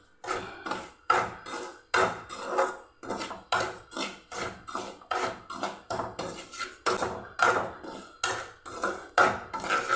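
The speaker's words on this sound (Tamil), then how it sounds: "கொஞ்சமாக சூடாக வரைக்கும் வறுத்துக்கலாம்." Dry semolina (rava) roasting in a pan for rava pongal, stirred with a spoon in steady repeated scraping strokes, close and fairly loud, with no one talking.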